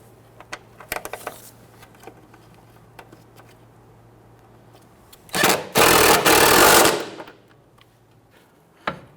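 An impact gun snugs down bolts on the front right CV axle of a 2011-2015 Kia Sorento, a loud buzzing rattle lasting about two seconds after a short initial burst, amid scattered tool clicks in a quiet garage.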